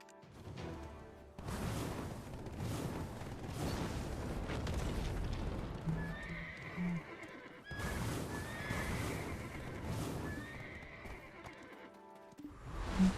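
A video game horse neighs and whinnies over steady hoof clip-clops and a low rumbling background, the calls repeating several times at moderate volume.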